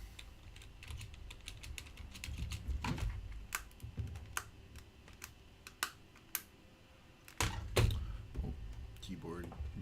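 Computer keyboard typing in bursts of sharp, close clicks and clacks, irregular with short pauses and a few heavier thunks, with a voice talking over it at times.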